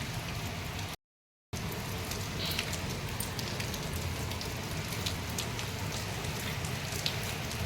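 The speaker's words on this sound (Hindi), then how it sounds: "भयंकर बारिश आ रही है।" Heavy rain pours down steadily, a dense continuous hiss of drops beating on surfaces with scattered sharper splashes, close and loud throughout apart from one brief gap of silence.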